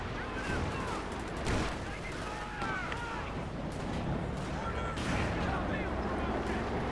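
Gunfire and artillery from a Company of Heroes 2 match, a 1v1 of Wehrmacht against US Forces, with dense overlapping shots and blasts rolling steadily under a game commentator's voice.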